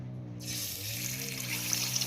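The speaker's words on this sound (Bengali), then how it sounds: "তেলটা দিয়ে মাছটা খুব সুন্দর করে আমি ভেজে নেব মাছের মাথাটা" A fish head frying in mustard oil in a kadai: a steady, close sizzling hiss that starts abruptly and keeps going without a break, over a low background hum.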